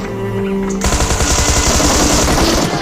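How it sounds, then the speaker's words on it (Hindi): Automatic gunfire in the mobile battle royale game PUBG Mobile, a loud rapid burst of closely spaced shots starting abruptly after a moment of quieter game sound and running to the end. "मैंने बस थोड़ी बहुत फायर दी"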